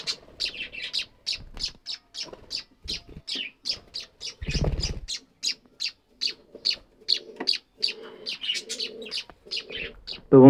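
Caged birds including munias and weaver birds chatter in rapid high chirps and tweets, with a pigeon nesting nearby giving a short low coo midway; steady, close, busy calls with no talk.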